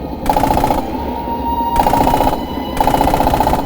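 Machine gun in Red Orchestra 2 firing three short controlled bursts of rapid rattling shots, loud and close, separated by brief gaps of quieter tank interior rumble.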